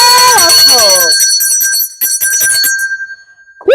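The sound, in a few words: bell being rung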